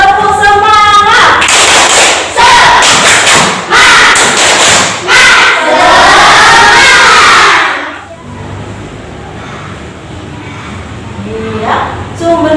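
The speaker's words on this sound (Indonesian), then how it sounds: "tepuk semangat dulu, tepuk semangat" A fourth-grade class performs a loud rhythmic clapping chant, sharp claps mixed with chanting voices for several seconds before breaking off into quieter room sound and faint talk.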